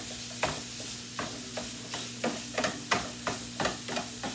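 Sausage, onions and garlic sauté in olive oil in a pot at home, with a soft steady sizzle under repeated clear scrapes and clacks of a utensil stirring about every half second, close by.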